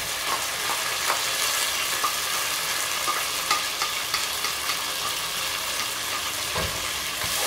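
Blended pepper frying in a pan for gizdodo, a loud, steady sizzle with crackling spatters throughout and occasional stirring scrapes, close up with no speech.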